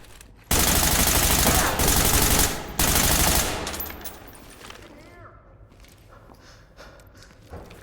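Rapid bursts of automatic gunfire in the video game Ready or Not crackle loudly in two long volleys, then fade into quieter rustling and distant echoes.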